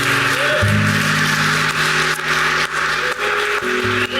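Church congregation standing to applaud Christ Jesus in a worship service, steady broadband clapping filling the space over sustained music, continuous and fairly loud throughout.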